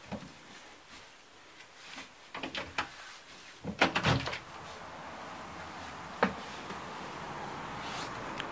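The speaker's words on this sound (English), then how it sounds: "But this door can be opened," A hotel room door swings open, with latch clicks and a few knocks of handling near the start, then the hum of the room at the Hotel St George in central Helsinki.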